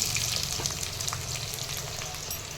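Chopped onions frying in hot oil with whole garam masala in a home kitchen, a steady dense sizzle running the whole time at close range, with no voices over it.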